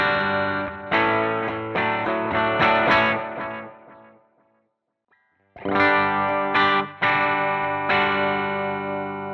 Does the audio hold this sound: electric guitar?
yes